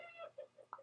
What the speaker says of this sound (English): I'm sorry about the chickens barking in the background.